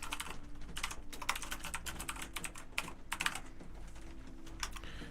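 Steady typing on a computer keyboard while working on a three.js coding project, rapid clustered keystrokes close up and fairly quiet, with no voices.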